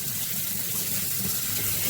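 Tap water runs steadily over leeks being rinsed, a close, continuous splashing gush with no pauses through the whole moment.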